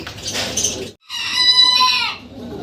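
A rooster kept among pigeons at a sale gives a loud, close crow lasting about a second after a burst of clucking, then the calling trails off.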